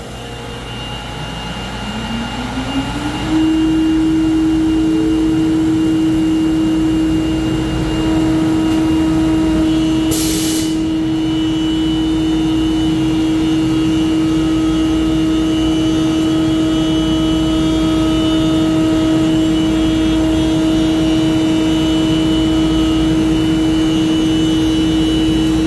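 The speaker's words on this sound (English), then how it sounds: "Dust collector's on." A dust collector in a CNC workshop spins up over a few seconds into a loud, steady whine and roar that holds unchanged, close by and alone, with one brief hissing burst partway through.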